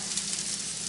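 Grilled onions frying on a hot grill, giving a close, steady, bright hiss and crackle that carries on without pause for a brief moment.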